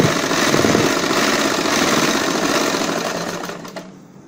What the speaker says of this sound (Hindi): इस प्रकार फोल्ड करते जाएंगे बराबर नेफा और सिलाई लगाते जाएंगे।